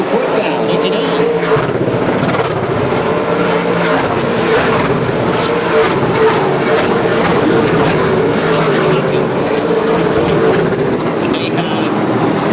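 Race cars lapping late in the Snowball Derby, a loud continuous roar of engines with repeated pulses as cars sweep by, under a commentator's voice.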